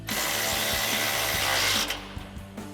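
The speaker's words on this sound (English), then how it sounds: "for our upper control arm, original bolt, we'll tighten down our 18 mil socket" A power tool with an 18 mm socket tightens the original upper control arm bolt on a Jeep Wrangler JL during a suspension lift install, whirring loudly for nearly two seconds before stopping, followed by faint clicks.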